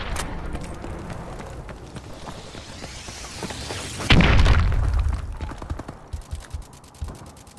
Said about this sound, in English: Enemy missile strikes incoming.